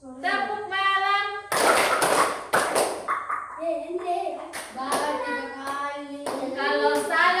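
Grade 5 schoolchildren clap their hands in a classroom rhythm game, several sharp bursts of claps trading off with loud group chanting across the clip.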